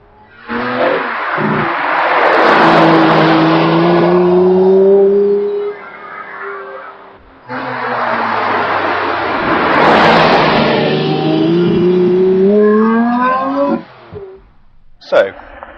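A Lamborghini Reventón supercar roars along the road in two long, loud engine passes with rising and falling pitch as it accelerates, the second burst ending abruptly before a brief final rev.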